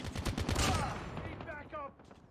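Rapid automatic gunfire from the mobile shooter game Call of Duty: Mobile rattles in a fast dense burst and then fades, with faint game voice chatter over the tail.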